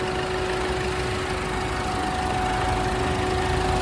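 A 2016/17 Ford EcoSport Trend Plus engine idles quietly at close range, a smooth, even hum with a faint steady whine and no rise or fall over a few seconds.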